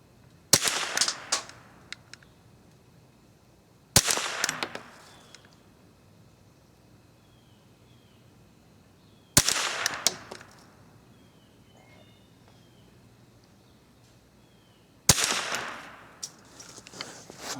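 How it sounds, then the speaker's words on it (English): Suppressed .22 rifle shots with CCI ammunition sound as sharp, snappy cracks, each with a short mechanical clatter, spaced several seconds apart and fairly close. "Okay, that's 5 shots."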